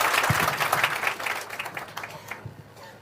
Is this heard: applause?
yes